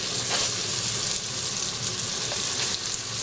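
Halved figs sizzling in olive oil and butter in a pan, a steady close crackling hiss that runs throughout with no voices.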